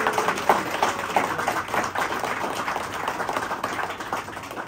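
Wedding guests clapping for the bride and groom's party, a steady, moderately distant round of applause from a crowd with scattered sharper claps throughout.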